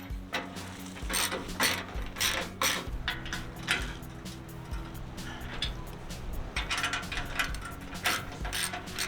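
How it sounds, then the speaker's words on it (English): Ratcheting wrench tightening the side bolts on a budget bull bar being installed on a Toyota Tacoma, with repeated clicking ratchet bursts and metallic clatter close by, no talking. "go ahead and tighten all the bolts on the side"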